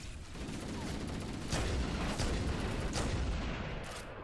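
Sustained gunfire against an Elite in Halo, with dense, rapid bursts of shots and booming impacts throughout, and a voice briefly heard under the din.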